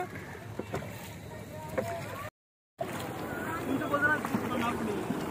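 A rowing boat out on Bhimtal lake, with soft water splashes and creaks of the boat beneath steady wind buffeting the microphone, while people in the boat talk over it. The sound drops out briefly partway through.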